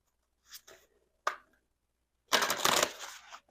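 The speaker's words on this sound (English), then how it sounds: "One more shuffle." Quick papery riffles of a card deck being shuffled, two short bursts and then a longer flurry, close and fairly quiet.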